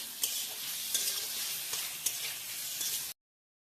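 Salted hilsa fish and eggplant being stirred and fried in oil in a pan, a steady soft sizzle broken by several sharp scraping clicks of the spoon, close and moderately quiet, ending abruptly in silence.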